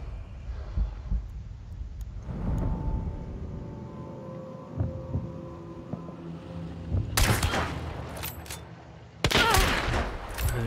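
Gunfire crackles in the co-op shooter Hunt: Showdown, with scattered shots early and then loud, sharp bursts of repeated firing in the second half over a low ambient hum.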